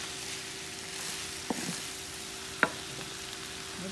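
Octopus rice seasoned with paprika stirred in a pan, a steady soft sizzle of frying throughout with a couple of sharp scraping clinks from the spoon against the pan.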